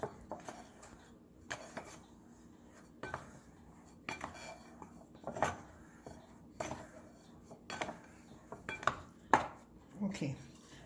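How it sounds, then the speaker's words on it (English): A dough scraper scrapes around a mixing bowl of baguette dough, making a series of short scraping and knocking strokes against the bowl at a close, moderate level. "And we'll scrape the bowl."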